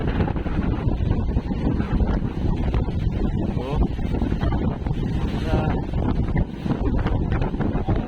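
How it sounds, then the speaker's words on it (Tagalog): Strong wind gusts roar across the microphone in heavy, buffeting bursts on the Pacific Ocean, with waves and a fishing boat's rush in the background and a voice speaking beneath it. "Ang hangin ay bugso ng 40, 48."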